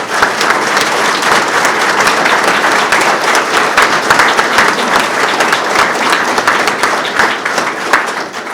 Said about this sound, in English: please just give him a round of applause